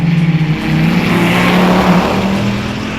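A Dodge Viper TA accelerates hard out of the hairpin at Laguna Seca, its engine climbing in a loud, close, rising roar after a brief lower note, heard from onboard with no talk.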